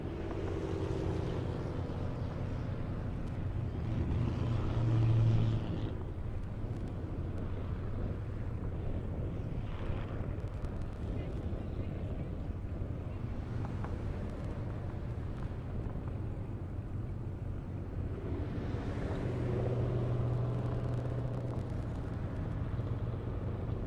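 Corvette Z06 and Ferrari F8 Spider drag racing down an airport strip, a steady distant engine roar with wind-like rumble throughout, swelling louder around two passes, with no talk.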